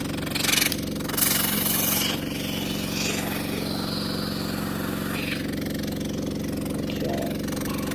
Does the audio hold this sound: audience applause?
no